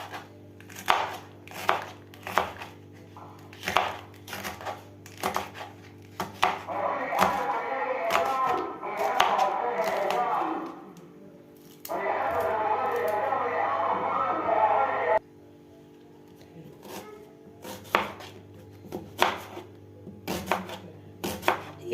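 An onion is chopped into wedges with a knife on a board, sharp repeated chops in uneven bursts with a stretch of quieter rustling and handling in the middle, while a low hum runs underneath.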